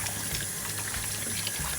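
Vinegar poured over smoked ham hocks in a pot, a soft continuous liquid splash and trickle, faint and close, with no voices.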